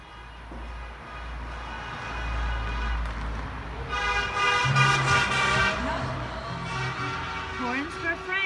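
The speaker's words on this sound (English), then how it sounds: "all those horns honking at the end of the video were because France actually won the semifinal game tonight" Car horns honk and toot repeatedly in the street after France's semifinal win in the football tournament, several overlapping blasts rising mid-clip over crowd and traffic noise, with people talking and cheering.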